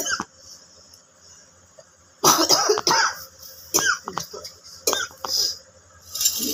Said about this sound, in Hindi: मुझे बहुत तेज खांसी आ रही है